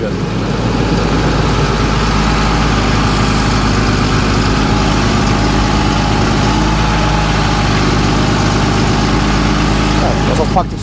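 A farm vehicle's engine on a dairy farm idles close by, a loud, steady low rumble that holds an even level for the whole stretch.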